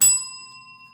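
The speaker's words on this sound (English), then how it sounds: "You like the bell? Here it is." A small bell is struck once, a bright clear ding that rings on and slowly fades, alone and close.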